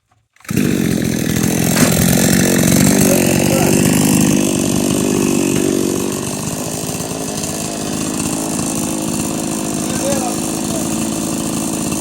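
A chainsaw engine roars loud and close, holding a steady buzzing drone throughout, easing slightly in pitch partway through.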